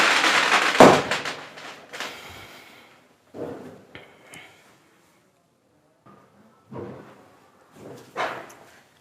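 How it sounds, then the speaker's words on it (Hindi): Several loud firecracker bangs, one big burst followed by scattered pops and crackles at irregular intervals, with quiet gaps between. "ओहो, पटाखों की इतनी आवाज।"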